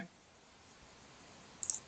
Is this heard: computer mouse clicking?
yes